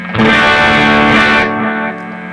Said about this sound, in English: So here's my bridge pickup.